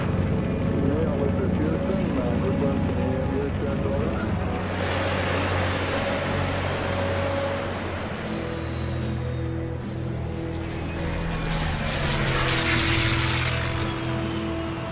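A C-130 military transport plane passes overhead, its propeller drone rising and swelling loudly before easing off, while voices call out and cheer beneath it.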